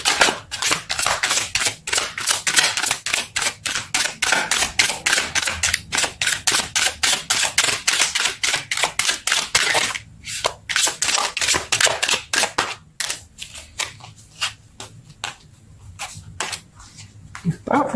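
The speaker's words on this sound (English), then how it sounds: "Let's pull some more cards." Tarot cards are shuffled and riffled in long rapid runs of crisp snapping flicks, close and loud, slowing into scattered single taps and card pulls toward the end.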